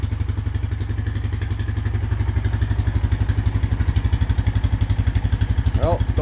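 A Honda Foreman 450 ATV engine runs after a top end rebuild, its single cylinder thumping in a steady, fast, loud rhythm close by for the whole stretch, with a brief voice near the end.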